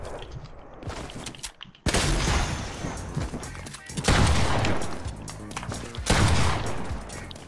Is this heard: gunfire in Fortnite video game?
yes